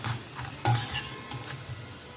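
Roasted peanuts are scooped out of hot frying oil for a sabudana snack, bringing light metallic scrapes and clinks of a ladle against the pan over a low, steady sizzle.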